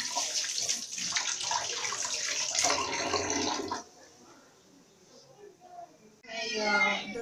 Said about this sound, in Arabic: انا غسلت يدي